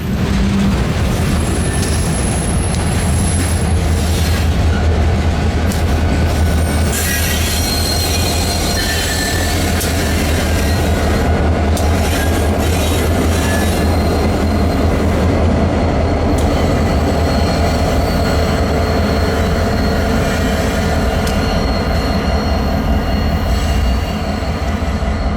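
A freight train led by an Iowa Northern locomotive rolls past at Pine Junction in Gary, a loud close continuous rumble of wheels and cars with sharp metallic squeals and rhythmic clatter throughout, no voices.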